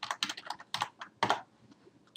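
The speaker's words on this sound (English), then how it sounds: "Ctrl Y on the keyboard and let's call it scratches." A computer keyboard pressed at a desk while working in After Effects, with a quick cluster of crisp, close key clicks followed by a pause and a few more taps, and no talking.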